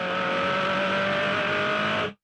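A Formula Ford race car at Hidden Valley, heard from onboard, holds a loud, sustained engine drone at steady pitch for about two seconds before cutting off sharply.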